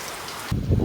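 Heavy rain drums on a metal roof overhead, a dense close hiss that shifts partway through to a deeper, louder rumble of drops.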